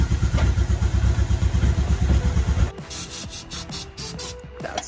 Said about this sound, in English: It's cranking better, so hopefully it's gonna pop off.